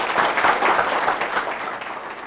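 Audience applause closing a talk on the state capital and prison, a dense, even wash of many hands clapping at moderate volume throughout.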